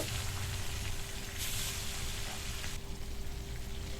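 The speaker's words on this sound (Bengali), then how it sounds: "এবার তেল গরম হয়ে গেছে, একে একে মাছগুলো দিয়ে" Fish pieces fry in hot oil for a Bengali fish curry, a faint, even, continuous sizzle with a brief brighter surge partway through.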